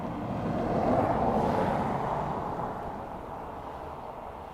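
An Airbus A319 airliner at Dublin Airport rumbles as a broad, steady roar from a distance, swelling slightly near the start and then slowly fading, with no talk over it.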